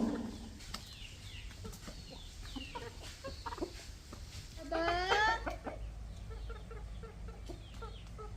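Backyard chickens cluck and call while pecking at scattered feed, with several short bird sounds and one louder rising squawk partway through over faint background noise.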